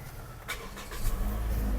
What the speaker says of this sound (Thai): เดี๋ยวผมขออนุญาตสตาร์ทรถให้ดู